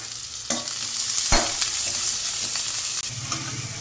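Chana dal, onion, curry leaves and green chili sauté in hot oil for a lentil-and-chickpea sundal, a steady sizzle with scraping stirs and clinks of a spoon against the pan, close and without talk.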